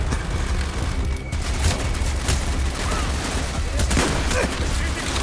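Gunfire in Call of Duty: Black Ops during the Project Nova mission, loud and continuous with repeated shots and booms layered over dense battle noise, with no clear talk.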